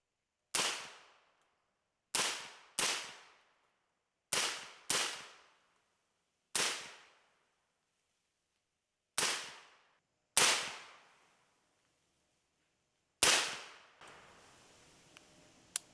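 Sharp, isolated rifle shots from a Springfield Saint Victor .308, fired new out of the box, crack out at irregular intervals, each dying away quickly, about nine shots in all.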